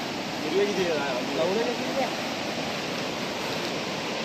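A monsoon stream runs like a river near a house in Devghar, its steady broadband rush continuous and fairly loud throughout, with faint voices briefly audible under the flow.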